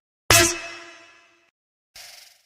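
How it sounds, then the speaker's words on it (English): A bright, high-pitched pluck made in the Xfer Serum synth rings out and decays over about a second, followed by a softer, shorter repeat of the pluck. "little high-pitched pluck thing that you just heard."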